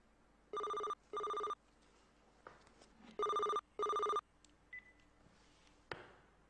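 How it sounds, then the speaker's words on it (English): Telephone ringing in double bursts, two short electronic rings, a pause, then another pair, clear and moderately close in a quiet room. "Then the phone call came."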